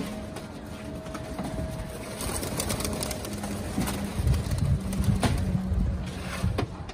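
Pigeons in a loft coo softly and intermittently while birds move about as the loft is opened, over a steady background hum with faint rustling and a low tone, moderately close.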